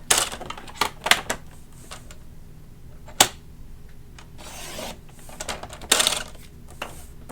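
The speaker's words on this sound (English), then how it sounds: "So I'm going to cut my liner at 4 1/8." Liner paper or cardstock for a small tissue box holder being cut with a paper trimmer, giving a few sharp close clicks and slicing swipes spaced across quiet pauses, with no talking.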